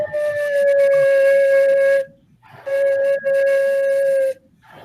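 A lone flute head joint is blown without the flute body, giving two breathy, hollow sustained tones separated by a brief pause, loud and close.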